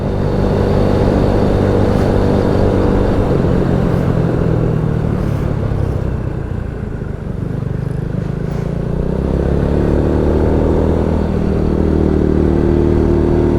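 A Honda Supra X 100 motorcycle climbs uphill in third gear, its engine droning loudly and steadily under load with a slight dip and recovery midway, heard close up with wind rumble and no talking.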